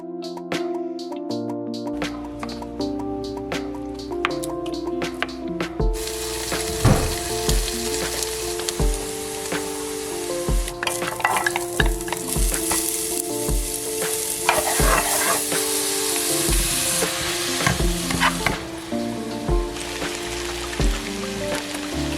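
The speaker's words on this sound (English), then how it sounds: "I ended up frying an egg and adding some seaweed." An egg fries steadily in a pan with a constant crackling sizzle, while soft tonal music plays underneath throughout.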